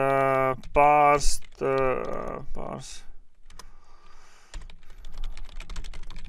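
Rapid typing on a computer keyboard, a dense run of crisp clicks that follows a few short spoken phrases and continues to the end, close and moderately loud.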